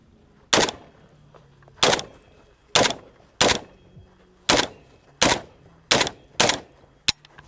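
A Palmetto State Armory AK47 rifle fires eight loud, sharp single shots at roughly even intervals of just under a second, each one cracking close by and then ringing out briefly.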